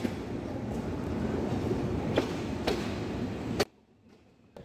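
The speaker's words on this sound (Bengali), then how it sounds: "কমলাপুর রেলওয়ে স্টেশনের 4 নম্বর প্ল্যাটফর্ম থেকে আন্তনগর মহানগর এক্সপ্রেস চট্টগ্রাম রেলওয়ে স্টেশনের উদ্দেশ্যে ছেড়ে দিল" Mahanagar Express intercity train with white Indonesian PT INKA coaches pulling out of Kamalapur station platform 4 at night, a steady loud rumble of rolling wagons with sharp clanks, then cutting off abruptly to near quiet.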